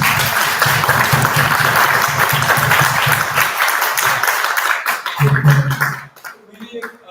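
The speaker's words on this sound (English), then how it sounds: "Round of applause for Zensa." A live audience at a fireside chat on startups claps in a dense, loud burst of applause that thins out and fades after a few seconds, with voices talking over the tail end.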